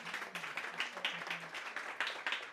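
A small audience at a French cinema round-table discussion claps in short, moderately distant applause, a light, uneven patter of hands that stays fairly quiet.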